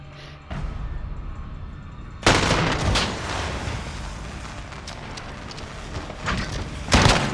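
Heavy bursts of RAAL LMG machine gun fire in Call of Duty Modern Warfare, a dense sustained rattle with loud booming surges, close and continuous with no talk.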